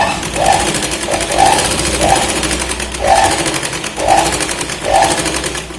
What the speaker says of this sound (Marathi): परत आपल्याला शोल्डर पर्यंत इथे शिलाई लावून घ्यायची